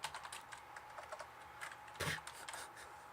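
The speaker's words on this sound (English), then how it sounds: "finger picks just make typing hard" Computer keyboard typing by someone wearing finger picks, quiet steady clatter of keystrokes in uneven bursts, close and faint, with a heavier cluster of presses near the end.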